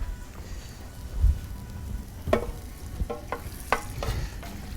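Cooked pasta is tossed and stirred in a pan with sauce at a home stove, giving soft wet squelching and scraping with a few sharper clinks of a utensil against the pan over a low sizzle.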